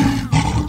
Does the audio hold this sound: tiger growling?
yes